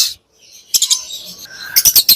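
A pair of pet budgie-type birds, a blue fisher male and a par blue female, give sharp bursts of chirping and squawking close by, in two quick clusters separated by a brief quieter gap.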